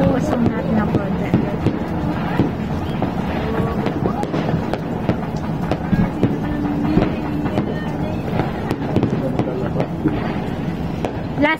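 New Year fireworks at a rural Filipino celebration crackle and pop continuously, dense overlapping bursts near and far, with people talking throughout.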